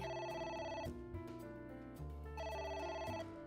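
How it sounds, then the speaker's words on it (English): A telephone rings in the AI: The Somnium Files video game, two clear bursts of electronic ringing separated by a short pause, loud and close with no talk. "That ringing is gonna be in my nightmares."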